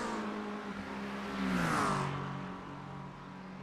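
Race car engines whine and rev as a McLaren tries to pass an Aston Martin at Road Atlanta in iRacing, a steady close roar that swells with a rising pass-by sweep.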